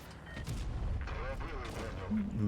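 Tank cannon fire in World of Tanks Blitz, with a muffled boom of an incoming hit and rumbling impacts under someone speaking over the game sounds.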